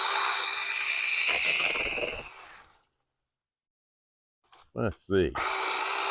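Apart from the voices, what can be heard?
mini electric chainsaw by TOMY cutting tree branches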